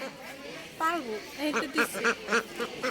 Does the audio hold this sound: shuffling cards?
no